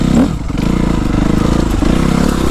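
A Suzuki RM-Z 250 motocross bike ridden off-road on Réunion drones steadily and loudly up close, its engine note holding with slight wavers and rattly clatter throughout.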